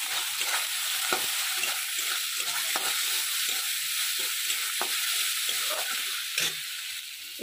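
Garlic paste fries in a pan alongside already browned onion, a bright constant sizzle punctuated by a regular series of spatula scrapes as it is stirred, close and clear with no talking.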